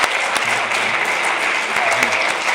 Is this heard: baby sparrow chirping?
no